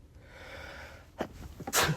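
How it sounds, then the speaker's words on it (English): A quiet breathy inhale builds up, then a loud, close sneeze bursts out with a sharp, explosive release. "hold on, I have to sneeze."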